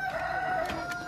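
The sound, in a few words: rooster crowing at a market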